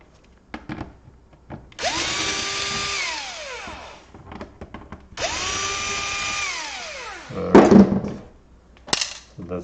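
A power screwdriver twice whines up and winds down as it backs out screws from the rear of a Cyberpowerpc Tracer 2 laptop, each run lasting about two seconds, close and clear, followed by a sharp clatter and light handling noise.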